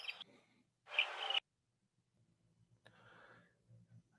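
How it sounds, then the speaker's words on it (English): Outdoor bird calls recorded for sound source tracking come in a few separate bursts, one loud and several fainter, with quiet gaps and low background hum between them. "So the bird song is tracked."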